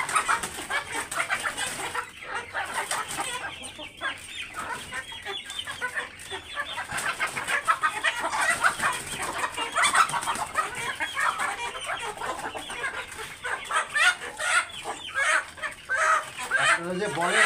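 Hill chickens (pahari murgi) cluck and squawk repeatedly at close range on a farm, a busy, uneven chatter of several birds with a person talking intermittently in between.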